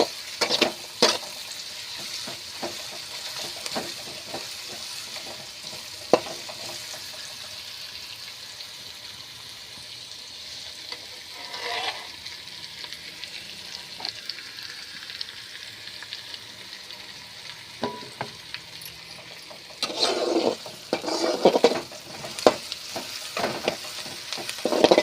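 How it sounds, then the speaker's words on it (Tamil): Onions sauté in a hot pan with a bright, continuous sizzle, broken by intermittent stirring scrapes and a louder burst of clattering toward the end, near and without voices. "வெங்காயம் நல்லா வணங்கட்டும்."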